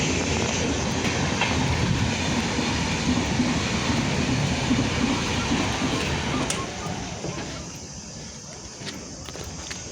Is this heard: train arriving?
yes